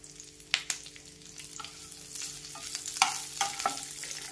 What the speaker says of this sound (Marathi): हा जो कढीपत्ता आहे यावरती छान कुरकुरीत होईपर्यंत आपल्याला भाजून घ्यायचा आहे